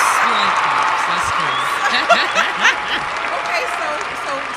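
Soundboard clapping effect of a crowd applauding, a steady wash of claps running the whole time at moderate loudness, with a few brief chuckles and voice fragments over it.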